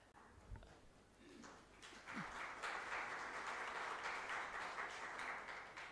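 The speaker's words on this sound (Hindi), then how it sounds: "आप सबके लिए एक बार तालियां" Applause from a lecture audience swells after a couple of seconds of quiet room noise into steady, fairly distant clapping that continues to the end.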